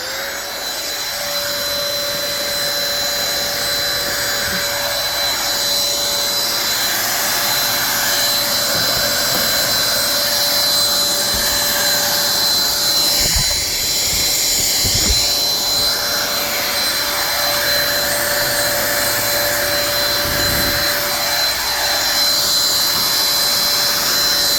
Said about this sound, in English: let's see what it Bissell Pet Hair Eraser handheld vacuum cleaner sounds like